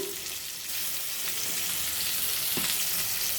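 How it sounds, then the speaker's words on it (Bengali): Tomatoes with a little ginger paste frying in a pan give off a steady, close sizzle and hiss, with a couple of brief stirring scrapes and no talking. "একটু টমেটোটাকে ভেজে নেবো"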